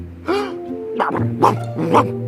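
A cartoon dog lets out a quick series of loud, close barks and yips, four bursts in about two seconds, with nothing else over them.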